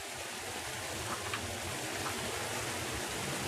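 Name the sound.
waterfall in the video game Obduction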